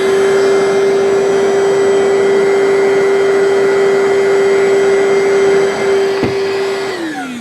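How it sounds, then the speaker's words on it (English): Ryobi bucket-top wet/dry vacuum with its hose switched to the blower end roars loudly and steadily, blowing sawdust, a constant close whine throughout with a brief bump near the end. "We'll see how the blower works."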